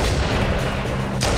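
Loud gunfire in a Halo game against Hunters, a dense burst of shots with no speech, ending in a sharp louder blast near the close.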